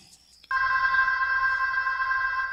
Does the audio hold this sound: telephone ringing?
yes